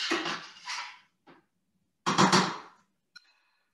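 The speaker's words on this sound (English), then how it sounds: "your spatula, just kind of chop it and stir it up really well" A spatula chops and stirs a Singapore noodle mixture in a pan, in two short bursts of scraping and knocking separated by silence, then a single small metallic clink at the end.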